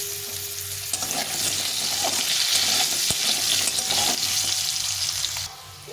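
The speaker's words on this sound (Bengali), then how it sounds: "এই তেলে এখন আলুটাও ভেজে নেব" Long-cut potato strips deep fry in hot oil in a kadai, a dense, loud bubbling sizzle that swells after the first second, holds steady with a sharp clank midway, then eases slightly at the close.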